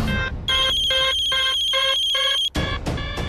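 A telephone rings loudly in a dramatic TV series scene, an electronic ringtone sounding in five or six rapid repeated bursts. It pauses briefly, then starts again, with no voices over it.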